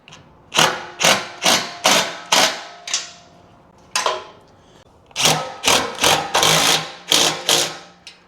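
Carpeted bunks are bolted onto a boat trailer with a power tool, sharp repeated bursts in two groups split by a short pause, loud and close, with no talk.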